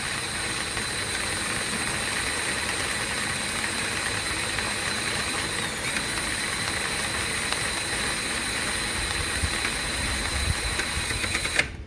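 A Ryobi drain auger and a Popoman drain auger run together, making a continuous, even motor whine and hum that holds steady for the whole stretch with no pauses.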